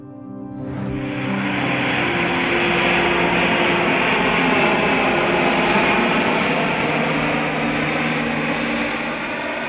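Jet engine of an RQ-4 Global Hawk drone aircraft, a loud, steady broadband roar that swells in within the first second and holds continuously, with a low droning tone underneath and no voices.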